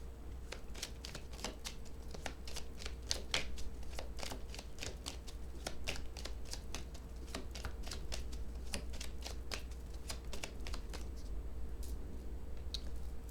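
Oracle cards being shuffled and drawn, a long run of crisp, rapid card flicks and riffles in a steady rhythm over a low constant hum, close and fairly soft, with no talking.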